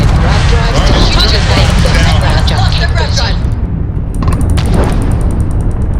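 Spaceship weapons firing in a space battle in the video game Starfield, loud dense booming blasts and rumble filling the first few seconds, then thinning out, with a voice talking over it.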